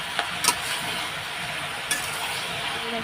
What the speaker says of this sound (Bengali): এক চামচ হলুদ দিলাম আর একটুখানি দিলাম দিয়ে এবার নাড়াচাড়া দিয়ে নেব